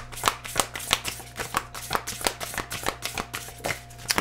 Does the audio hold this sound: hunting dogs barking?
no